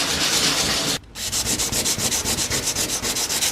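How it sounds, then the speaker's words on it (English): Car paint is scuffed by hand to remove the shine, a steady close rasping rub in quick repeated strokes with a brief pause near the start. "go ahead and scuff it up to get rid of that shine, that seal"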